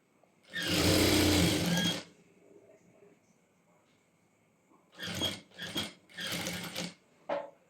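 A sewing machine stitches pant fabric in short bursts: one long run of rapid stitching, a pause, then several quick separate bursts close to the listener.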